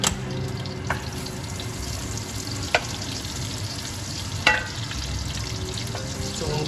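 Onions and garlic frying in a hot pan, a continuous moderate sizzle with a few sharp clicks and taps of a utensil against the pan, no talking.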